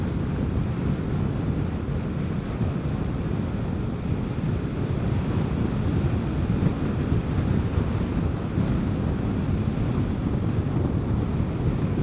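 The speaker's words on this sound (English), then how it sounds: "That feels like a 20-mile-an-hour wind to me." Strong wind of about twenty miles an hour rushes and buffets against the microphone in a continuous roar, loud and unbroken throughout with no voices.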